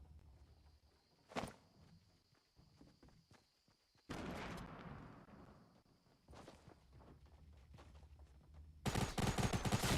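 Gunfire in Fortnite Battle Royale crackles in sharp single shots and then a dense burst of rapid fire near the end, mixed with footsteps and quiet movement noise in between.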